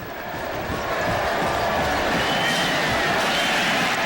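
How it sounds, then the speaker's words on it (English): Hokie fans in a big football stadium at the ACC Championship applaud and cheer after a Virginia Tech touchdown, a steady broad crowd roar filling the background throughout. "That's why you hear the applause from the Hokie fans in the background."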